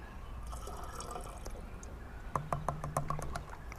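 Liquid weed-killer concentrate poured into a measuring cup for mixing weed spray, heard as a short run of small splashing drips toward the end, near and fairly quiet, with no talking.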